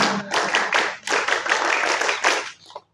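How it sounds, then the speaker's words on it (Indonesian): Students repeat the Pramuka scout clap, a loud, close run of rhythmic clapping in grouped bursts that ends abruptly. "Sekali lagi, tepuk pramuka."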